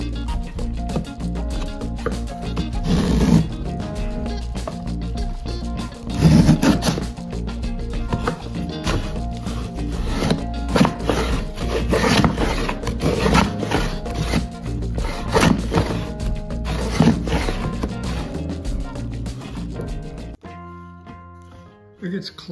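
A homemade shoulder plane cuts wood in rough, repeated scraping strokes with woody knocks, loud and close, with the tool clogging and shavings rasping; a brief quieter stretch comes at the end.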